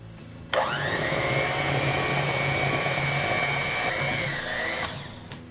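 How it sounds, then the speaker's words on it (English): An electric hand mixer beats gingerbread cookie dough in a bowl, starting abruptly with a steady, loud motor whine that holds for about five seconds before cutting off, with no talking. "it's a little hard to use the hand mixer"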